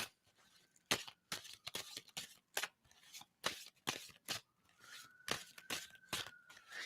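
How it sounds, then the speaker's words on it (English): A deck of playing cards being shuffled in sharp, repeated riffle bursts, close and fairly quiet, with brief pauses between shuffles. "And so I'm going to stop shuffling."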